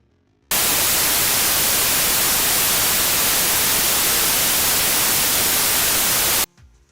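A Fairlight oscillator puts out a white noise test signal, a loud, flat, continuous hiss that starts abruptly, holds steady for about six seconds and then cuts off.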